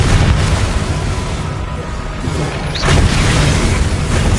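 Booming magical blast from the Confringo fire spell in Hogwarts Legacy, a loud, dense low rumble sustained throughout with a second swell of impact near the end, no talking over it.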